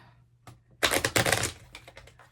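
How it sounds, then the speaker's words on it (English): A deck of playing cards riffled and shuffled in a quick burst of dense flutter and clicks, with a few lighter card taps before and after. "now I'm going to shuffle the cards"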